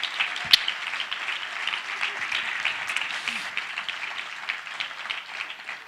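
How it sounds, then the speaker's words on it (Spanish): A church congregation claps and cheers in steady, dense applause that fills the whole stretch, with a few voices calling out over it. "Dale un aplauso al Señor."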